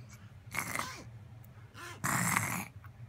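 A young child imitates a dog with two short growly barks, close and alone with a pause between them.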